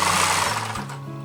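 A sewing machine stitches fabric on a tote bag in a fast, continuous whirring run. It is close and fairly loud and slows near the end, with no talking.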